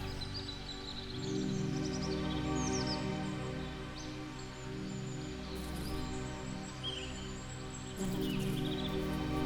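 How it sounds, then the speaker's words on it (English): Faint birdsong chirps and twitters outdoors, scattered across the stretch over a steady low ambient drone. "Everything is quiet again, except for the birds, the sounds of nature."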